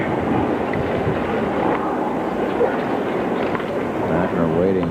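Gusty wind buffets an outdoor tennis court during the 1981 US Open final, a steady, loud broadband roar that continues throughout, with faint voices underneath.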